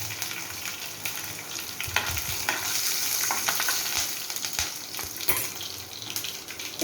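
Sabudana khichdi with green chilies sizzles in a frying pan while a spoon stirs it, giving repeated close scrapes and clatters over a steady frying hiss, with no voices.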